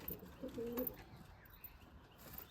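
Pigeons in a home loft, including a standing female, give a few soft, low coos close by over a quiet background, brief burbling phrases followed by near silence.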